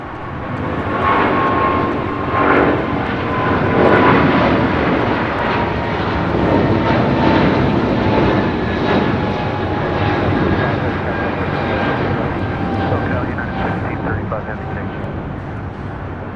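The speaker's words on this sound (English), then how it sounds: "This is United Airlines 1635 taking off to Washington Dulles on a 777-200" A United Airlines Boeing 777-200 taking off from LAX makes a powerful, continuous jet roar, loudest early and then easing slightly, with thin whining tones drifting across it as voices talk over the engines.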